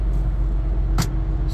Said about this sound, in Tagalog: grabe yung traffic dito sa south